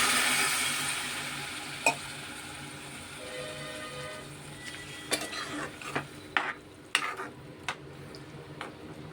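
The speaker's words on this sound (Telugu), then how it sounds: "ఇప్పుడు కొంచెం నీళ్లు పోసుకుందాం" Water poured into curry frying in a pan with turmeric, chilli powder and salt, a soft sizzle fading under scattered stirring clinks of a utensil against the pot, no talk.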